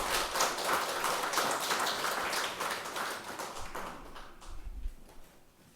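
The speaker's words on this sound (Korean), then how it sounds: "우리 하나님께 감사와 영광의 박수 올려드리겠습니다" A church congregation at a Sunday service applauding together, a dense wash of many hands clapping that holds steady and then thins and fades out toward the end.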